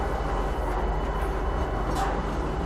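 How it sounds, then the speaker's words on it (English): A metro train in the game Star Citizen roars past at close range, a loud, dense, continuous rumble with a steady low-end drone and no voice audible over it. "this sound of the metro will overpower my voice"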